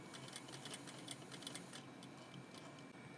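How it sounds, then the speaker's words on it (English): A sewing machine stitches the edges of a fabric label at a quiet distance, making a fast, even ticking patter that continues steadily for a few seconds. "we're just gonna be sewing the edges here"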